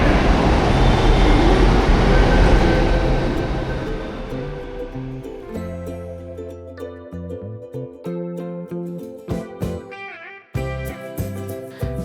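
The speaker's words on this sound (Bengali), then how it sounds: "এই যে আমাদের মেট্রো" A Jaipur metro train pulls into the station with a broad rushing roar that fades as it slows. A rising electric whine and humming motor tones follow, and a few clanks and a hiss come as it stops.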